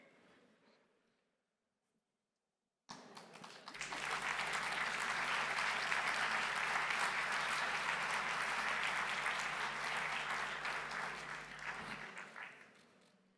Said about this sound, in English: I think we can applaud them once more, all again.